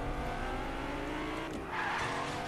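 A white car driving in the Fortnite video game, its engine droning steadily and loudly throughout with a brief tire-like screech partway through, no talking.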